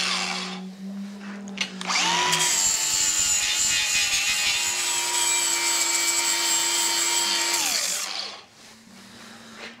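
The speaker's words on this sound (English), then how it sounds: "I'll hit that with the old disc sander. We'll make that a little smoother." A disc sander whines up, grinds steadily against a boat trailer part for about six seconds, then spins down, loud and close with a high-pitched tonal hum over a rough scraping texture.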